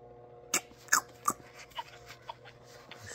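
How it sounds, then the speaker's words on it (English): A robotic baby doll makes a quiet suckling noise, a string of soft, wet smacks and clicks that start sharper and fade into fainter taps over a few seconds. "She make a suckling noise."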